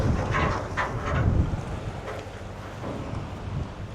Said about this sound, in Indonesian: Angin juga sudah mulai kencang bertiup.